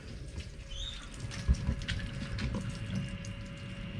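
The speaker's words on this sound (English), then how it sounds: "Bilge on." A bilge pump pours water into a live bait tank on a Stacer Proline boat, a soft, steady splashing and gurgling close by with a faint hum underneath.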